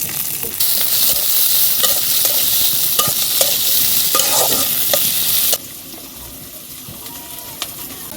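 Green chili, garlic and onion hit hot oil in a heated wok in a village kitchen, giving a loud, bright sizzle with stirring scrapes, then the frying noise drops abruptly to a quieter hiss near the end.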